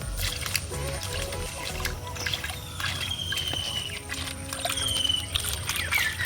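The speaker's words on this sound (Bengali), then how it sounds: "এবার আমি চুবড়ি করে ভালো করে রৌড়ে ধুয়ে নেব" Water splashes and trickles as snails are rinsed in a basket, a steady run of pouring and dribbling with light rattles and knocks from handling, close and moderately loud.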